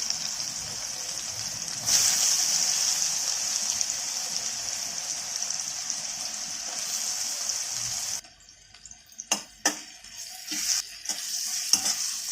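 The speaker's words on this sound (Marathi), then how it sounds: "आता कांदा आणि हिरवी मिरची चांगली परतून घ्यायची आपल्याला इथे।" Onion and green chilli paste sizzles steadily in a hot pan, then the frying drops away into quieter stirring, scraping and clinks before picking up again.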